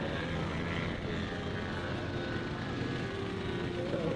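A model aircraft engine drones steadily at a model air show, a continuous loud buzz from a warbird-scale plane taxiing on the field, with no break across the whole stretch.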